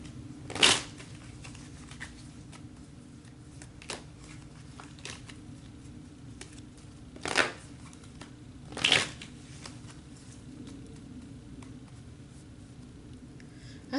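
Tarot cards being shuffled in short bursts, three distinct riffles spread across an otherwise quiet stretch, close and moderately loud.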